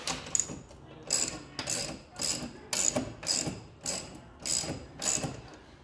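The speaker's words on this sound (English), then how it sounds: "now we're going to get the wrench here and tighten up the jack so it lifts up the vehicle a lot more" A car jack is cranked with a wrench to raise a vehicle for a tire change, giving about eight regular ratcheting clicks, close and crisp, each stroke a metallic burst in an even rhythm.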